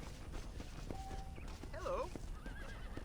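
Horse in the video game Red Dead Redemption, giving a short whinny with hoof clops over a game soundscape, while someone talks quietly underneath.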